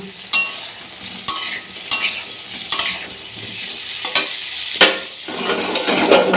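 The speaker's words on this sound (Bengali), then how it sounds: "আলু পটলটা ভাজা বসিয়েছি" Potato and pointed gourd pieces frying in a pan give a soft continuous sizzle, broken by several sharp, close clinks and scrapes from a spatula at uneven intervals, with no one speaking.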